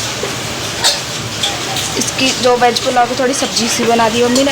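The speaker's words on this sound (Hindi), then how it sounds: "बाहर आ रही है बहुत तेज़ बारिश" Heavy rain pours steadily outside, a broad continuous hiss running the whole time beneath someone talking in Hindi close by in a kitchen.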